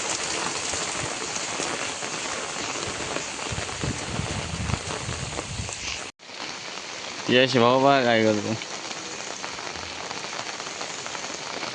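First monsoon rain falls steadily in a Konkan village, a dense even hiss of drops on surfaces. The rain drops out for a moment, then returns, and someone speaks briefly over it.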